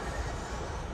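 A passenger train in Japan rolls along its rails with a close, steady, low rumble and faint rattling, heard alone for about one second.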